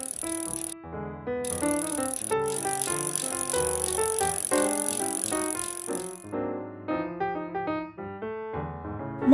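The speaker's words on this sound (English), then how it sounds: "bicycle." A toy bicycle's sound effect plays as a bright, busy run of ringing, bell-like electronic tones with a rattling edge, loud and continuous, with a brief pause near the start.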